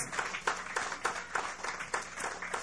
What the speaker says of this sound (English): give them that round of applause